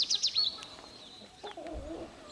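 Lia, a tame garden duck and daughter of the hen duck Bertha, gives a few soft, low calls near the end, after a burst of high, faint bird chirps.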